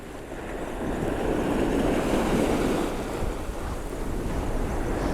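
Waves break on a beach under an onshore wind, forming a steady broadband surf roar with gusty wind noise and no voices.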